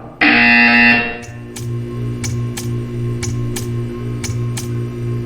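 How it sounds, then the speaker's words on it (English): A harsh electronic buzzer from the Portal 2 video game blares loudly for about a second, then cuts off, leaving a low hum and a series of faint, evenly spaced ticks. "You will hear a buzzer. When you hear the buzzer, stare at the art."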